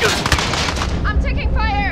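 Gunfire in Call of Duty Modern Warfare multiplayer: loud, dense bursts of rapid shots and heavy booms, close and overlapping, with game voices mixed in.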